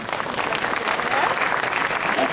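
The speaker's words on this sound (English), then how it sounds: "So please give her a round of applause." A crowd applauds at the SLAM New Year Celebrations 2024 opening ceremony, a dense, steady wash of many hands clapping that fills the whole moment without letting up.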